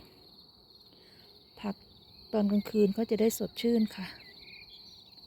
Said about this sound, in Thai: เสียงนกร้อง เสียงจิ้งหรีด